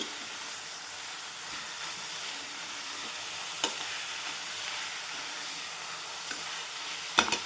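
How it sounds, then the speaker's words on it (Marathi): Bitter gourd frying in oil in a pan gives a faint, continuous sizzle and hiss, with a few sharp scrapes and clinks as it is stirred, and no one speaking. "तेलामध्ये छान फ्राय करून घ्यायचं आणि नंतर आपण मसाला घालू"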